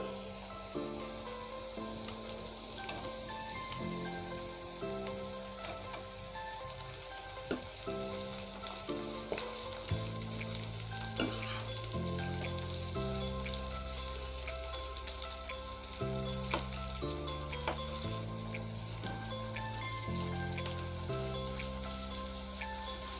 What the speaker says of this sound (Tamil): வெங்காயம் எல்லாம் நல்லா ஃப்ரை ஆகிடுச்சு. இப்போ நம்ம கட் பண்ணி வச்ச குடமிளகாவை இதில் ஆட் பண்ணிடலாம்.